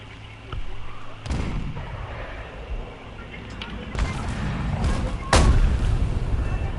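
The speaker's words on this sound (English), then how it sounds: "I bombed the crap out of them." Bombs exploding in the War Thunder video game, heard as several heavy booms and blasts in succession, the last one loudest and closest, over a constant rumbling background.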